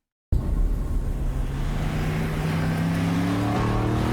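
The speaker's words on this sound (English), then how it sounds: "that is a pretty beautiful exhaust note" A 2026 Aston Martin Vantage convertible's exhaust note starts abruptly from silence, then a loud, steady engine roar holds with a rising tone, sounding like it is played back from a recording.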